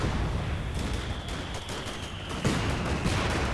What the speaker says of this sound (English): All Cuiry has to do is really keep moving his squads around, trying to avoid the mortar fire